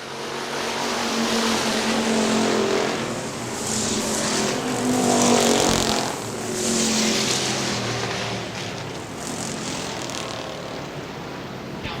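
Factory stock race cars roar around Hartford Speedway Park in Hartford, Michigan, a steady loud engine drone rising and falling in waves as cars pass, with no voices over it.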